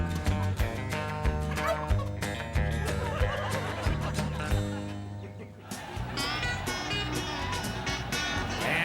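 A turkey gobbles loudly and repeatedly in quick rattling bursts, followed by a noisier stretch with other animal and background sounds.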